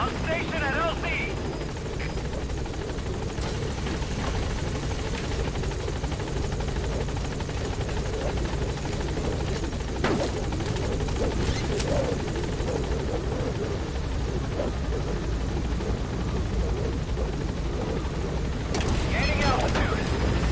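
The B-Quad support helicopter in Metal Gear Solid V arrives at a landing zone, its rotor a loud unbroken roar and thrum throughout, with a radio voice speaking over it.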